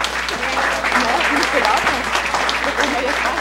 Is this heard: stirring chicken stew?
no